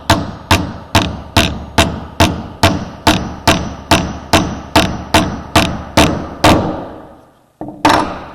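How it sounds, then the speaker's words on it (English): A hammer taps an axle down into a toy about fifteen times in a steady, even rhythm, loud and close, then pauses before one last strike. "Tap it down and listen for it."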